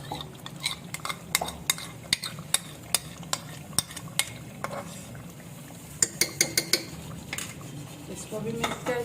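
A spoon stirs cream into chicken handi in a metal pan, producing repeated sharp clinks and scrapes against the pan in an irregular rhythm, with a soft sizzle beneath.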